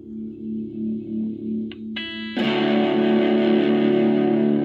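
Electric guitar through a Boss BD-2 Blues Driver overdrive pedal: a softly pulsing held tone, a couple of picked notes, then a loud, gritty, sustained distorted chord that rings out close and steady.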